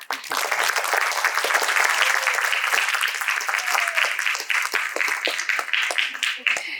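An audience at a drama festival applauds and claps in a loud, full burst that thins toward the end into scattered separate claps, with some voices mixed in.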